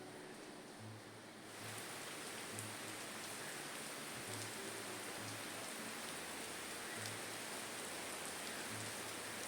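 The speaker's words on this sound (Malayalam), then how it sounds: "ഇത് ചെയ്തുകൊണ്ടിരിക്കുമ്പോൾ പുറത്ത് നല്ല മഴയാണ്" Steady rain falling outdoors, a constant even hiss of drops on surfaces heard from inside, with a faint low thumping now and then underneath.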